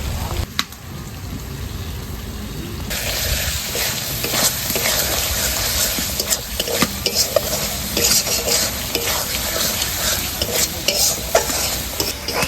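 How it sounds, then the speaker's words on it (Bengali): Spice paste of ginger, black pepper and green chili with a little chili powder is stir-fried in oil, giving a loud, steady sizzle broken by repeated scraping and clinking of a spatula against the pan. "মশলাটা কষানো হয়ে গেছে, তেল ছেড়ে দিয়েছে"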